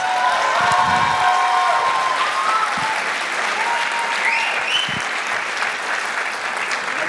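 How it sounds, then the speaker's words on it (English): An audience applauds a Bharatanatyam dancer after her rangapravesh performance, a loud, full round of clapping with a few cheers and whistles, sustained throughout. "she surely deserves another huge round of applause"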